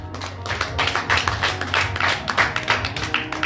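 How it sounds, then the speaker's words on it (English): A church congregation claps in unison, a dense, steady rhythm of many hands beating together close and loud, with a low hum of voices faintly underneath. "Clap for Jesus."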